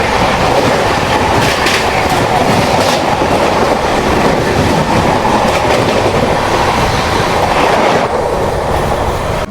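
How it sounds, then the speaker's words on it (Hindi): Rajdhani Express pulling into Kanpur Central station: loud continuous rumble of coaches with rhythmic clickety-clack over rail joints and a brief wheel squeal, heard up close with no voices. "अभी बस कानपुर सेंट्रल पे अपनी राजधानी एक्सप्रेस एंट्री ले रही है।"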